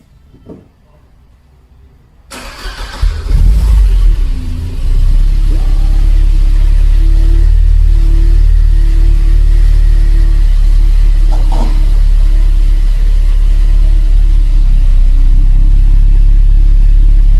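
A Mercedes 190E 2.5-16 Evo 2 four-cylinder cranks briefly after a quiet moment, fires up with a rising roar, then settles into a loud, steady close-up idle that holds to the end.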